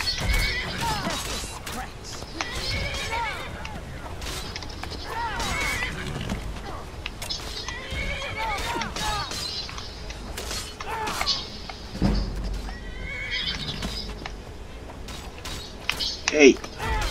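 A horse in the game Skyrim whinnies and neighs repeatedly while under attack, loud, close calls recurring through the scene with hoofbeats and a crash near the end, over game noise.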